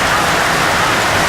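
Heavy rain pours down during an NPL football match between Edgeworth FC and Newcastle Jets Youth, a dense, steady hiss filling the whole moment with no voices over it.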